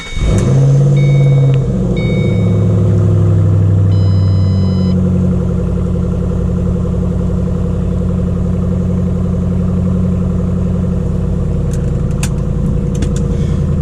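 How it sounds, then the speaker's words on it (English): A 2005-2009 Ford Mustang GT V8 with a newly replaced crankshaft position sensor cranks briefly, fires up loud and close, then settles into a steady, deep, rumbling cold idle with faint clicks near the end. "I think all there is left to do is to start it up and check to see if our idle's looking better."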